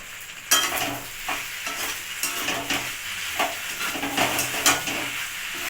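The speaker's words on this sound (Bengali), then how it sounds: "এই টমেটো সসটা আমি দিয়ে আবার একটু নাড়াচাড়া করব" Pasta in tomato sauce stirred in a frying pan, with steady close sizzling and repeated scraping, clinking strokes of a spoon against the pan over about six seconds, no talking.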